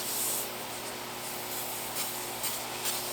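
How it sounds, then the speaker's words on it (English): Dollar store oven cleaner sprayed as a degreaser on the wheels and brakes of a 1974 Corvette Stingray barn find: a close, steady hissing spray lasting the full few seconds. "Dollar store oven cleaner."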